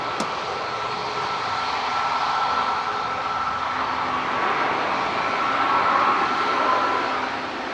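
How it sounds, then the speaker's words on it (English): Jet aircraft engines roar steadily nearby at Manchester Airport, facing the listener, a continuous whining rush that swells slightly toward the end, with no talking. "It makes it quite noisy here when the engines are facing us."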